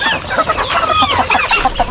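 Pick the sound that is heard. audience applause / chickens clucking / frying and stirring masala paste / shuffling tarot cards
chickens clucking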